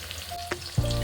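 Pakora frying in hot oil in a home kitchen gives a close, steady sizzle with a couple of sharp pops and crackles over about a second.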